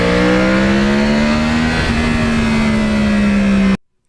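A Yamaha R1 crossplane motorcycle engine revs loud and close, holding a steady throaty drone with a slight rise in pitch before cutting off abruptly to silence.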